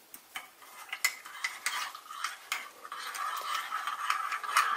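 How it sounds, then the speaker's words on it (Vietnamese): A spoon stirs instant coffee in a cup, clinking and scraping rhythmically against the sides, close and fairly soft, building steadily with no talking over it. "Sau đó các bạn dùng muỗng để khuấy đều lên."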